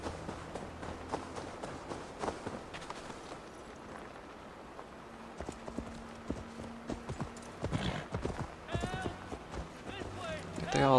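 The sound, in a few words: horse galloping in video game Assassin's Creed Valhalla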